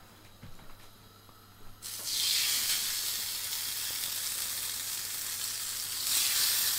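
Salt-and-pepper seasoned steak dropped into a smoking hot pan, a quiet moment of handling followed by a sudden loud, continuous sizzle that holds steady and swells slightly near the end.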